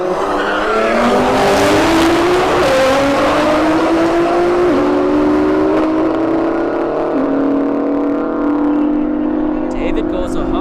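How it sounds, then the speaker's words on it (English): Drag strip launch of a CCO Performance Nissan GTR against a Mini Cooper at a street drag racing event: loud continuous engine roar with rising tones as the cars accelerate away, with tire noise, mixed with crowd or announcer talk throughout. "David Stevens coming back in the CCO Performance GTR and a Mini Cooper that's about to get gapped."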